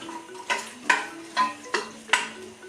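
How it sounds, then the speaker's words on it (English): A spoon stirs leeks and chicken casserole ingredients in a Tefal pressure cooker pot, giving a series of about six soft scraping strokes in a steady rhythm with faint sizzling beneath, close and alone. "And we could give this a bit of a stir around."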